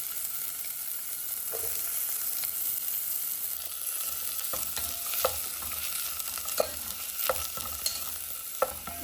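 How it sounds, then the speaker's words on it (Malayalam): Cinnamon, cardamom and sliced onion sizzle in coconut oil in a pan, a soft steady crackle with intermittent scrapes and taps of a spoon stirring, no talk. "പട്ട, ഏലക്കായുടെ കഷ്ണമൊക്കെ ഞാൻ അതിലേക്ക് കട്ട് ചെയ്തിട്ട് സവാള കൊടുക്കും."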